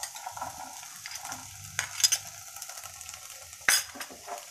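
Onions and corn sauté in a pan at a home kitchen, a gentle sizzle under repeated scraping and clinking of a spoon against the pan, with a couple of sharper metallic hits.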